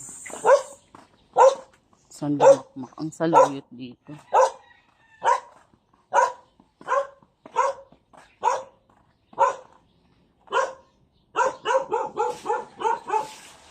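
An angry dog barks repeatedly outdoors while jute leaves are being picked, sharp loud barks in a steady rhythm with a quicker burst at the end, mixed with people talking.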